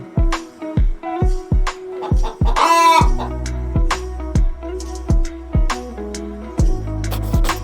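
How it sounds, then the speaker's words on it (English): A hen clucks in a steady rhythmic pattern over a repeating beat, with a brief crowing call partway through. "H for hen."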